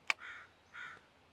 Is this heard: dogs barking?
no